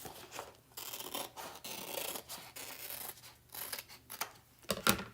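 Scissors cut paper chalk-transfer design cutouts, a series of close, crisp snips and rasping slides of blades through the sheet at an uneven rhythm, with no talking.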